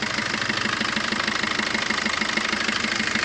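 A 2019 Maruti Suzuki Swift Dzire Tour S diesel with about 106,000 km on it idles with a steady, rapid diesel clatter and even rhythmic knocking, close and loud, with no voices.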